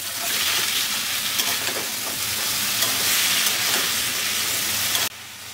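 Vegetable stems hit a pan of hot fried spice paste and set off a loud, dense hiss that holds steady for several seconds, then cuts off abruptly.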